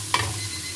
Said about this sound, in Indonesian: Aku akan goreng apa tu onion tu sampai warna macam tu lah.